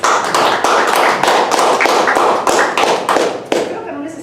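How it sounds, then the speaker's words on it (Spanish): Warm applause for a speaker at a Convictorio 2021 talk, a dense, steady wash of many hands clapping for about four seconds before thinning out near the end. "te damos un cariñoso aplauso"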